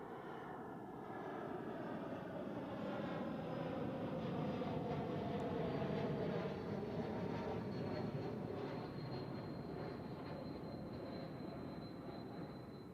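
An airliner lands at Zurich Airport, its broad jet roar building and holding steady before easing slightly, heard from a distance outdoors with no talk.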